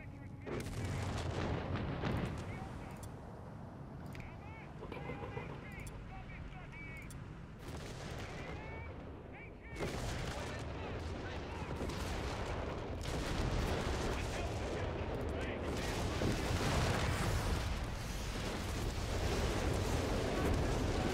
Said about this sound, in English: I have my own artillery coming in.